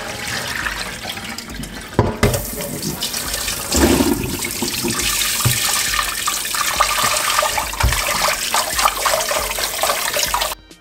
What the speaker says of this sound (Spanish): saca los limones y lava nuevamente con el agua